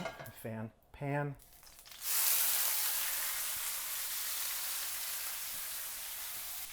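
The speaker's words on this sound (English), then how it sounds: "So we take our dried off steak into our very hot pan." A steak hits a very hot pan and a loud, steady sizzle rises at once and holds with a broad, hissing texture, following a few brief spoken words at the start.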